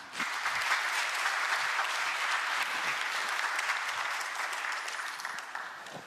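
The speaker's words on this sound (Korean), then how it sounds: "다시 한번 박수 부탁드립니다" Sustained applause fills a hall at a South Korean government presentation of a five-year national policy plan: an even wash of many hands clapping together, fading slightly toward the end.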